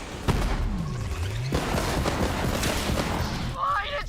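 Heavy gunfire and booming impacts in a Borderlands 3 fight, with several loud cracks and thumps among busy battle noise, plus a sweeping tone and a chirping effect near the end.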